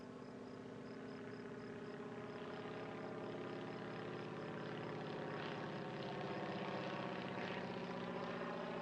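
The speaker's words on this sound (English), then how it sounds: "Featured here, an attractive parasol wing Morane Saulnier MS-317." A Morane Saulnier MS-317 parasol wing aircraft runs its engine with a steady, droning propeller hum at an air show at La Ferté Alais, continuous and fairly even in level, with no voices.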